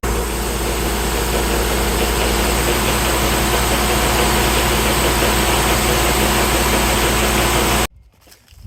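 A farm tractor engine runs in third gear, a loud, steady, close drone with a constant hum, then cuts off abruptly near the end.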